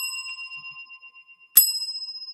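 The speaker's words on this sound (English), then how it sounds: "Oh, that's not a very good bell." Inside a garage, a bell is struck once with a sharp, bright clang that decays into long ringing tones, preceded by faint lingering tonal hum and no voices.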